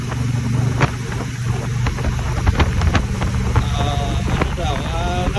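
Strong wind buffets the microphone while riding a motorcycle on the Cebu-Cordova Link Expressway, a loud continuous rushing roar over engine and road noise.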